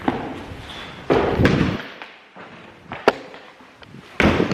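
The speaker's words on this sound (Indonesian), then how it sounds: "Aya ketukan pintu" Several loud, sharp knocks on a door, clustered in separate bursts with dull thuds and brief gaps between them, heard close by during a night ghost-hunting outing.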